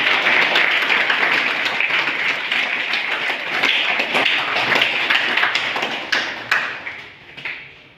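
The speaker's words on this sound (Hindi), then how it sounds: "एक बार अपने अपने पिता के तालियां बजा दें आप" Students at a school hostel event applaud their fathers in a dense, loud burst of crowd clapping that holds steady for several seconds, then thins out into scattered claps.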